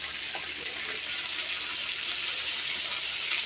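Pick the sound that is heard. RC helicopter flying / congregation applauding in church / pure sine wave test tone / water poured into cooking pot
water poured into cooking pot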